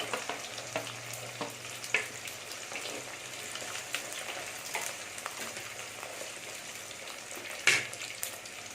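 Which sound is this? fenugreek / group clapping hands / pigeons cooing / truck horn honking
fenugreek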